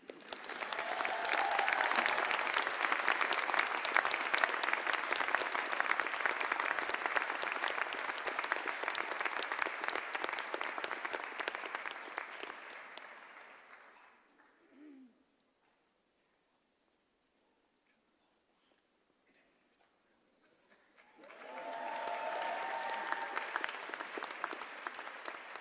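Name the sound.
audience applause at a graduation ceremony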